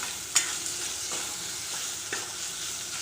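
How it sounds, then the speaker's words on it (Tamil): Ginger garlic paste sautéing in a pan, giving a steady close sizzle with a couple of light scrapes from a stirring utensil. "இஞ்சி பூண்டோட பச்சை வாசம் போகிற அளவுக்கு நல்லா வதக்கிக்கணும்"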